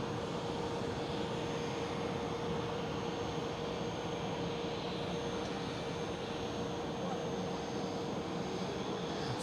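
An Airbus A319 jet airliner at Amsterdam Schiphol gives off a steady, distant engine roar with a faint whine held through the whole stretch, never rising or fading.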